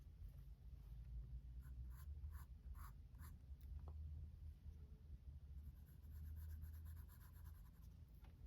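A pencil sketches a face on paper, soft close scratching strokes in short repeated bursts, faint and steady against quiet room hum.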